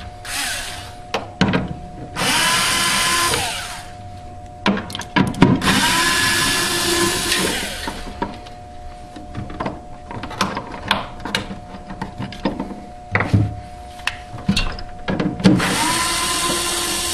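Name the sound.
power drill removing screws from refrigerator evaporator fan motor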